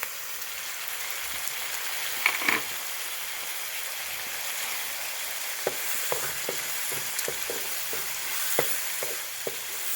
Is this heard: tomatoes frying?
yes